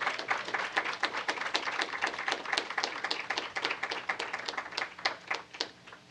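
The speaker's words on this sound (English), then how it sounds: "let's give a round of applause for 21 Pilots" An audience applauds the duo Twenty One Pilots at a radio interview event in Austin, a dense, steady clapping that holds at even loudness for about six seconds with no voices on top.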